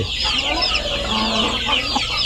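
Chickens on a Thai farm cluck steadily through the clip, several birds close by with overlapping calls under a constant farmyard background.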